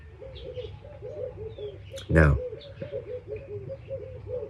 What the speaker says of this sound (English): There's some doves, some frogs, some birds chirping, some cars in the distance.